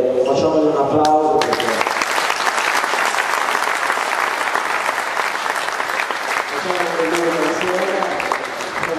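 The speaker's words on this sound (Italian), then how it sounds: "Facciamogli un applauso" Applause for a player at a basketball clinic on the attack off the dribble, a dense burst of group clapping that starts abruptly after a brief voice, holds steady and loud, then fades slightly as talk returns near the end.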